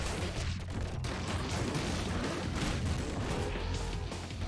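Shotgun blasts from a beast enemy in the ScourgeBringer roguelike, dense and continuous under busy game action and music, loud throughout with no clear gaps between shots.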